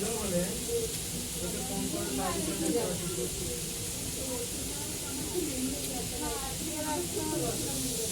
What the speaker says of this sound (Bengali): আলু ভাজা প্রায় হয়ে এসেছে